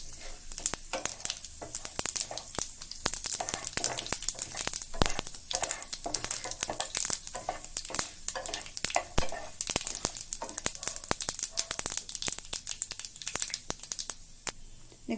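Mustard seeds, urad dal and chana dal sizzle and crackle in hot oil, a loud, dense frying hiss with constant sharp pops and spatters that runs unbroken throughout.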